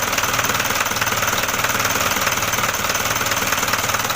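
A diesel engine runs just after its pressure pump timing was set, a loud, rough, rapid knocking clatter that holds steady and close for the whole stretch, with no talking.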